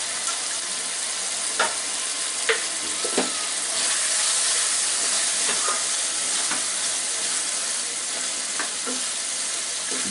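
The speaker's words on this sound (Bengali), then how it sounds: "এটাকে একটু নেড়ে দিব।" Chicken sizzles steadily in a pan while a spatula scrapes and stirs it, sharp scraping knocks recurring every second or so over a constant loud hiss of frying.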